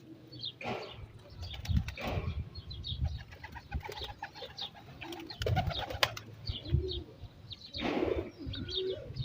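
Pigeons coo softly nearby, with scattered chirps and a few brief wing flutters, no talking.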